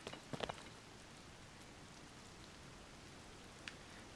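Steady rain falls in the video game The Legend of Zelda: Tears of the Kingdom, a faint, even hiss of drops on surfaces throughout, with a few soft clicks near the start and one later.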